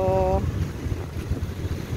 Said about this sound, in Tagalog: masarap ng hangin, guys.